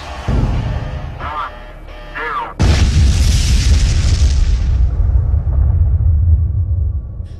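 An atomic bomb test explosion erupts as a sudden loud boom, then a deep rumbling roar that slowly fades, following a few seconds of dramatic music.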